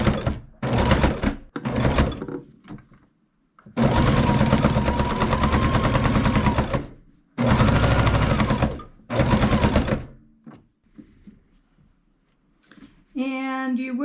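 A Baby Lock Jazz II sewing machine stitches binding onto a quilt in several loud, close runs of fast humming stitching, broken by short pauses and thunks, with a brief voice at the end.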